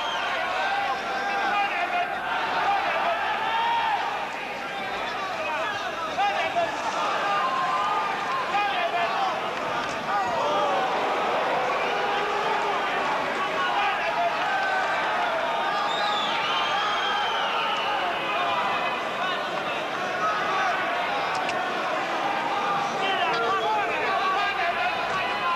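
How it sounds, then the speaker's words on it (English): Large boxing crowd at the Albert Hall cheering and roaring continuously after a fight, a dense, sustained wall of voices with whoops and chatter, steady and loud throughout. "you only have to listen to this crowd at the Albert Hall"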